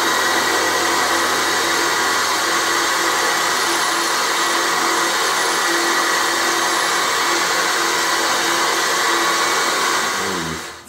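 A milling machine cuts metal with a carbide roughing end mill, giving a steady, loud, high-pitched whine and grinding hum that holds evenly throughout and cuts off at the end.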